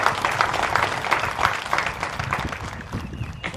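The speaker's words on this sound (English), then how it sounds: "So a round of applause for all those who have supported each of our graduates" Crowd applauding at a university graduation ceremony, a brief spell of dense clapping with a few voices mixed in, fading slightly toward the end.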